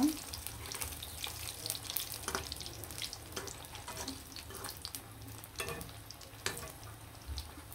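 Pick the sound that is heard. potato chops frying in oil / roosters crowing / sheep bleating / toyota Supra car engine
potato chops frying in oil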